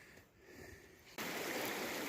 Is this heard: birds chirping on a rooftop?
no